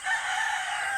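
A sustained, strained crow from a rooster nearby, with chicken calls layered in, loud and unbroken for about a second.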